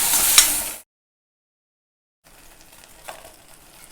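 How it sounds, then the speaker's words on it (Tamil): Snake gourd seeds frying in leftover oil give off a soft, steady sizzle in a brief burst, then a gap of silence before a quieter, faint crackle returns. "அதுலேயே இந்த புடலங்காய் விதையை வதக்கிடுறேன்"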